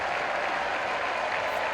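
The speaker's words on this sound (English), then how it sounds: "I'm throwing another round of applause in there." A brief round of applause sound effect: dense, even crowd clapping that stays loud for under two seconds.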